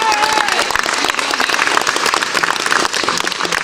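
Crowd at a sales event applauds in a dense, continuous patter of clapping, loud and close, with some voices mixed underneath.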